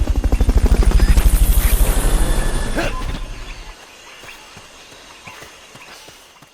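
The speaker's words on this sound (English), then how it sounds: "recovery helicopter is complete" A helicopter's rotor thumps loudly and rapidly in Metal Gear Solid: Peace Walker, then fades away after a few seconds, leaving quieter background sounds.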